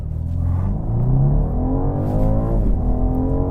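A 2025 BMW 230i accelerates hard from a standstill toward 62 mph, its engine note climbing loudly through the revs with a brief dip at a quick gear change, heard up close from inside with no talking.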